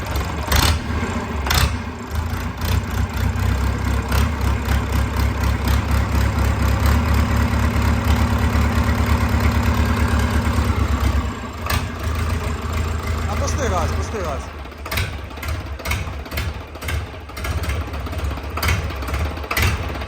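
A new YTO engine idles with a steady low rumble, close by, while people talk over it; the note briefly shifts partway through.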